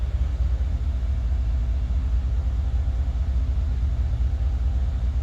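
A 2018 Cadillac Escalade ESV engine held on throttle during a test drive gives a steady low rumble with road noise, constant and unbroken throughout.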